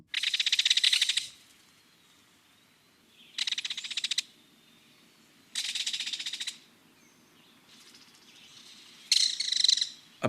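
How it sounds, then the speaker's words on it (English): A pair of belted kingfishers give loud, harsh rattling calls in four separate bursts, each about a second long, with quieter insect or frog chatter humming underneath throughout. "A pair of belted kingfishers. They often cry out in flight"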